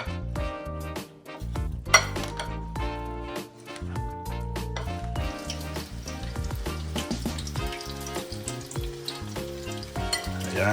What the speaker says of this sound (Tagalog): Iprito na tayo.